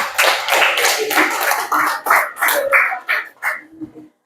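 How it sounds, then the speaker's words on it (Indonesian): Primary school children clap their hands in a classroom in a dense, uneven burst that thins out and stops. "Ya, ya tepuk tangan."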